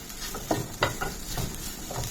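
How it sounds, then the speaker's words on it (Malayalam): Semolina and banana batter with coconut is stirred by hand in a bowl, giving soft, continuous wet scraping and squelching with small clicks, close and fairly loud. "ഇളക്കി യോജിപ്പിക്കാം"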